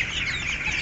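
Brahma chickens, including Light, Gold Partridge, Buff and Splash varieties, cluck in a brief, loud, close burst with no talking.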